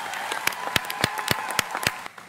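Crowd at a law school graduation ceremony claps for the graduates, a short burst of separate, sharp claps standing out above a steady patter that fades away at the end.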